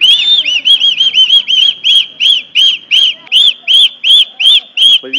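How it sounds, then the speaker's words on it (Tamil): Shrill whistling in a whistling contest between two people in Tamil Nadu, a long run of loud, close, regular blasts, each rising and falling, with a short low sound at the very end. "அந்த சந்தோஷத்தில் வந்து நம்மளுக்கு விசில் அடிக்கிறாங்க பாருங்க."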